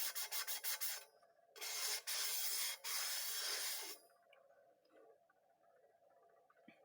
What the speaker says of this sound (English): I take my block, because it has the sanding size, and I just go around the inside.